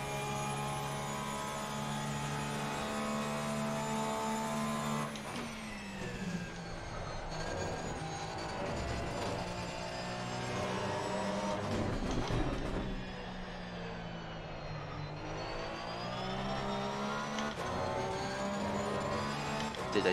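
A Porsche GT3 race car engine in the Assetto Corsa Competizione racing game, lapping the Nürburgring, drones steadily throughout, with its pitch rising and falling as the car accelerates and slows. No one talks over it.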